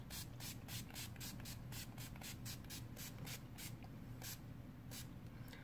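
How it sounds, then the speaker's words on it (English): Aerosol priming spray hisses out in a quick series of short, close bursts while a cosplay prop is primed, with a steady low hum running underneath. "And then I'm going to spray, it's a priming spray"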